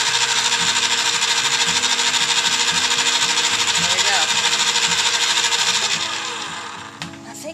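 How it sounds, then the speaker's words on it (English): A small ice cream maker motor, rigged up to turn a mash stirrer, buzzes and rattles in a loud, steady mechanical rhythm, then winds down and fades near the end. "So, let's plug it in and see if it'll work."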